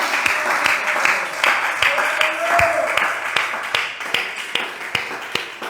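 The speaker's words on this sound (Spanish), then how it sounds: "Un aplauso más para Él." Church congregation applauding during a Spanish-language worship service, a steady wash of clapping with sharp individual claps throughout, fairly close and continuous.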